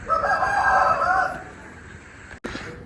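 A rooster at a village house crows once, loud and close, a long wavering call that fades out after about a second and a half, followed by a brief sharp knock and some quieter background noise.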